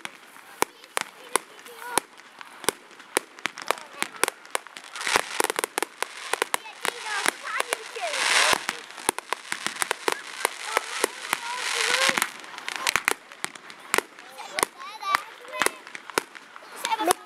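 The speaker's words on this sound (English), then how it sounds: "Keep watching the fireworks." Fireworks and firecrackers burst repeatedly on bonfire night at a Nottingham autograss event, sharp cracks and bangs scattered throughout, with dense crackling swells in the middle, fairly near and loud over a background of crowd noise and voices.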